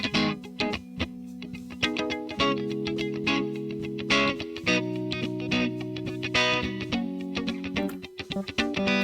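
Electric guitar, keyboard and a touch of saxophone share one analog mixer channel with light reverb added, playing a steady sustained chordal pattern with distorted, effected tones and rhythmic accents throughout.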